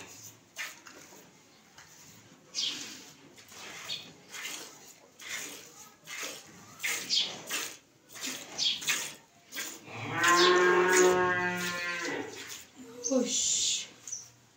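A dairy cow mooing around milking time, with loud, drawn-out moos near the end and a few shorter calls earlier, while people talk nearby and birds chirp faintly.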